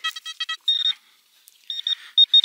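A metal detector sends out a clear beeping signal in short bursts of varying length with pauses between them, close and alone.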